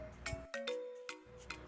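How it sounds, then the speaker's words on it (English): A bicycle bell gives about five quick, quiet metallic rings with a soft hum behind them. "Bikes usually have a bell on it, and people ring it so that others can get out of their way."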